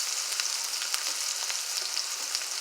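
Onion, garlic and scallion fry in a pot with a dense, steady high sizzle and scattered pops, close and continuous, with no voices.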